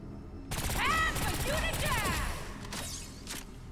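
Rapid gunfire bursts in the Agents of Mayhem video game crackle loud and dense through the clip, mixed with whooshing weapon effects and a voice talking over the fight.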